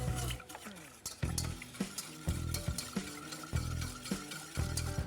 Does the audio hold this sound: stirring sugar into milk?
yes